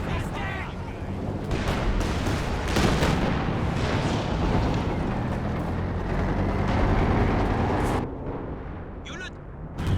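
Katyusha rocket artillery in Company of Heroes 2 unleashes a sustained, loud barrage of roaring launches and booms, a thick rumbling wall of battle noise that cuts out abruptly near the end.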